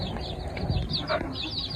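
Native hens let outside for the first time, scratching and pecking in the open, give scattered short clucks over a steady outdoor background, moderately close and fairly quiet.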